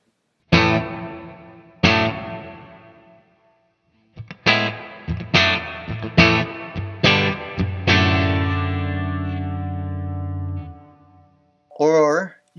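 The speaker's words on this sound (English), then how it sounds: "on this one I have sort of a spring emulation and a plate style, plate being a different style of reverb" An electric guitar through a pedal's plate-style reverb plays a series of chords, each with a shimmering tail, and the last one rings out at length before a brief voice.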